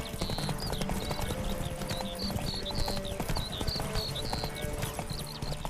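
Hooves of Roach, Geralt's horse in The Witcher 3, clatter in a steady galloping rhythm throughout, mixed with game ambience and occasional bird-like chirps, with no talking.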